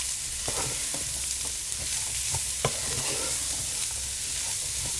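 Softening vegetables seasoned with onion powder sizzle steadily in a pan while a utensil stirs them, with repeated scraping clicks over the constant frying hiss.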